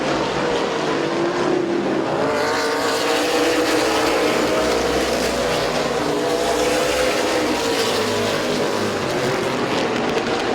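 Race cars circling a short track at Midvale Speedway, a dense, loud and continuous engine roar with shifting pitch as the field pushes through the corners, with no gaps.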